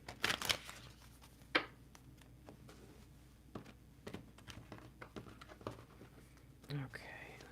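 Tarot cards shuffled in soft, brief bursts of riffling and card slaps, close and quiet, separated by stretches of near silence, with faint whispered speech.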